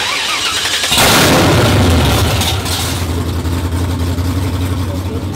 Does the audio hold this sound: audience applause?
no